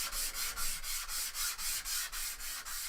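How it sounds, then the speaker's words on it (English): A sanding block rubs steadily over a dry painted piece in a close, rhythmic series of about ten back-and-forth strokes, a gritty scratching with no voices. "you want to make sure that your piece is fully dry before you go in with the sanding block"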